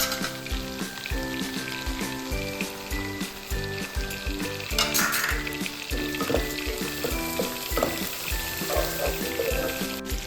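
Chicken pieces fry for a chicken biryani in a pan, with a steady, dense sizzle running throughout. A faint tonal hum sits under the crackle, and no one talks.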